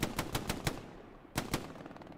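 Gunfire in the tactical shooter Hell Let Loose, fired at long range: five quick sharp shots in a rough rhythm, a short lull, then two more close together, loud against a low rumbling battlefield background.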